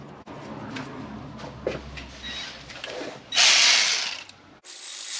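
A hand ratchet tightens the ignition coil screw on a 2012-2017 Toyota Camry 2.5L engine: a close, steady run of ratcheting clicks, then a brief loud burst of rapid ratcheting before cutting off, with no talk.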